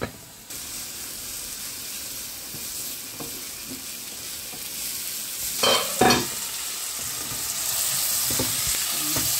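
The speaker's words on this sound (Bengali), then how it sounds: "তেল ছাড়িচ্ছে, মাছ শুকাই দিচ্ছি।" Karfu fish frying in hot oil in a pan for a bhuna curry, a steady close sizzle and hiss throughout with a few louder spattering bursts near the middle.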